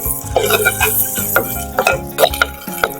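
Curry leaves and ginger garlic paste frying in a pan, with a spoon scraping and stirring in repeated clinks and scrapes over a soft sizzle; a voice talks alongside.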